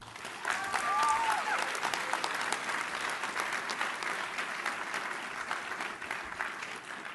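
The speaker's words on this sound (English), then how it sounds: "Can we get a bipartisan round of applause for Secretary Kennedy" Applause from an audience at a food policy press event, a dense, steady patter of clapping that swells early then holds at moderate volume for several seconds, with no voice over it.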